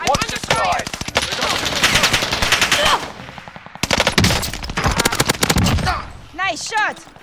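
Rapid automatic gunfire bursts in the World War II–era battle royale Warzone Pacific, loud and close, with a short pause before another volley, then a few lighter pops at the end.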